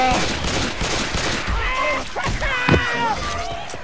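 Rapid gunfire in the video game Left 4 Dead 2, dense bursts running throughout under excited, overlapping shouting from players.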